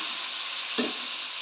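Adobong sitaw with pork simmers in a covered pan, giving a soft, steady sizzle, with one brief knock of the lid or utensil partway through.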